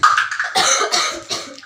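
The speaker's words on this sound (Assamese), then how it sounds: "কাহে ধৰি আছে" A schoolgirl with a week-long cough gives a quick run of several harsh, close coughs in a row.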